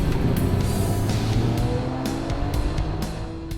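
A Cadillac XTS sedan drives along with a steady, fairly loud engine and road hum, with a few faint ticks and knocks over the constant rumble.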